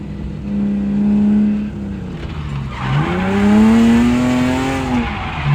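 A car drifting on a track with clutch kicks, engine revving up and down loudly while tires squeal in long, wavering whines, close and continuous.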